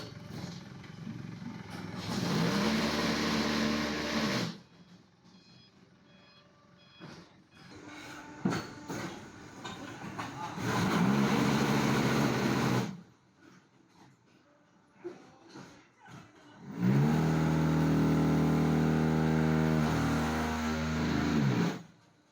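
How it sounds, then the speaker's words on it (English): Forklift carrying concrete hollow blocks to the curing area in a block factory: three loud engine surges of a few seconds each with rising revs, separated by quieter stretches of clanking machinery and factory noise. "For the concrete hollow blocks, when there are 4 layers, they are transported to curing area by forklift."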